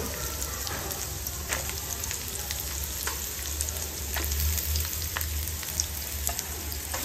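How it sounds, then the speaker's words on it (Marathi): Onion fries in hot oil with whole garam masala in a pan, a dense continuous sizzle broken by scraping and clinks of stirring, steady and close throughout with no voices. "याच्यात आपल्याला टाकायचा आहे कांदा. आपण कांदा टाकून घेऊ."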